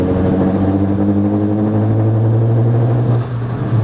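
A Ford Focus ST engine runs steadily up close, a deep, even rumble that barely changes in pitch.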